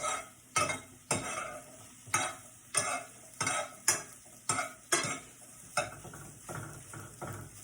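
Oyster mushroom omelette cooking in a pan, heard as a steady sizzle with about ten sharp scraping and stirring strokes of a utensil against the pan at a roughly even pace.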